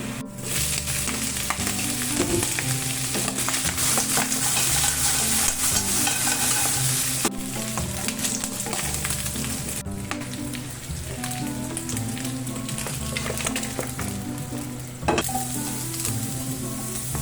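Onions and tomatoes sizzle steadily in hot oil in a pan for toasted sinigang, close and continuous, with occasional stirring scrapes and clinks breaking through the crackle.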